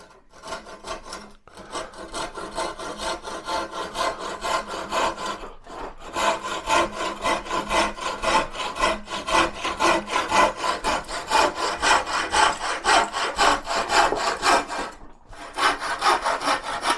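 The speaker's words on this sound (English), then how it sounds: "Got a decent saw, a half decent saw." A hand saw cuts through wood in a workshop with a fast, steady rhythm of rasping strokes, close and continuous, briefly pausing a few times before resuming.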